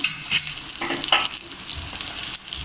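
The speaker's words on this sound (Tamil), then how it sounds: "அதே மாதிரி எல்லாமே நம்ம பொரித்து எடுத்துக்குவோம்" Fish pieces coated in spicy masala fry steadily in hot oil, a continuous close sizzle with occasional crackles and stir sounds throughout, no talking.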